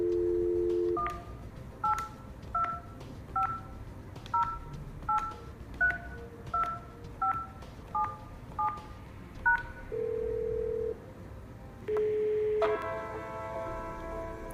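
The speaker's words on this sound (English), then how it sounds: "use extension 8002 to dial a mobile number" A VoIP extension on a Yeastar S Series PBX dials a mobile number, giving a steady run of about a dozen short DTMF keypad beeps, then a brief tone and the start of a ringback tone.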